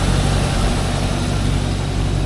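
Land Rover Defender with a GEMS V8 engine idling, a steady low rumble close by with an even, continuous throb and no voices over it.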